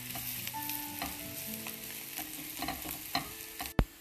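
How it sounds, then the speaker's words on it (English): Black pepper and flour are sautéed and stirred on high heat, a steady close sizzle broken by scraping stir strokes, with a louder clatter near the end. "I sauteed that on high heat and quickly because I didn't want the flour to smell kacha, as in raw"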